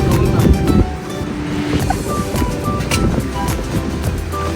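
Sea surf rolls steadily onto Patenga beach, a loud continuous wash of waves buffeted by wind noise on the microphone.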